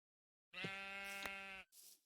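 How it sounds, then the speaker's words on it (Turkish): A single clear sheep bleat in Minecraft, steady with a slight waver, followed by a brief soft rustle. "Koyun sesi nereden geldi?"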